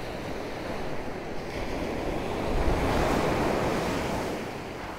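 Ocean surf at high tide, a steady broadband wash of breaking waves swelling louder midway, with wind buffeting the microphone and no voices.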